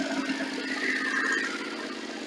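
A BMW F900R twin-cylinder motorcycle with its standard exhaust idles nearby, a steady mid-pitched engine hum with a faint whirring tone, unbroken and alone.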